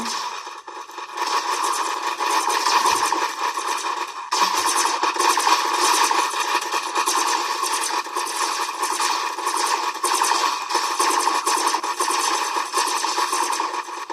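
Continuous rapid electronic gunfire from a Roblox game, fire button held down, a dense crackling stream of shots that runs almost unbroken for the whole stretch, with only a brief pause.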